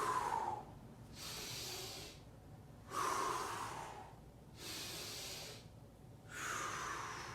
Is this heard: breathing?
yes